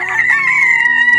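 Free-range kampung village chickens: one loud, close, drawn-out crow that fills the short stretch on its own.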